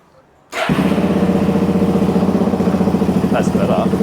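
A motorcycle engine starts with no choke and settles into a steady, rhythmic idle, loud and close, after a brief quiet moment.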